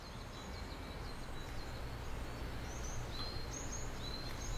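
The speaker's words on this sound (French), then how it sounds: "Nous entendons des oiseaux chanter." Birds chirp and sing around the Eiheiji Zen temple, several high, thin calls and trills repeating over a soft, steady outdoor hum, fairly faint and at a distance.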